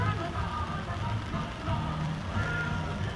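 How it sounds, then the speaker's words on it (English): Steady rain patters across a hard surface at moderate level on a Disney mini golf course, a continuous wash of drops with faint voices underneath. "we're gonna be playing this in the rain"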